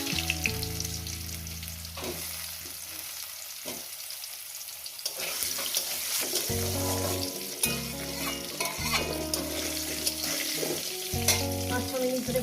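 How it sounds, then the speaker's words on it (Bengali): Potatoes fry in hot oil in a pan for a Bengali rohu fish curry, a steady close sizzle with occasional stirring scrapes and spoon knocks, no voices. "আলুগুলো দিয়ে আমি লাল লাল করে ভেজে নেব"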